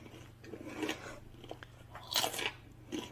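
Crispy food being bitten and crunched up close, a few sharp crackling bites followed by chewing, with no talking.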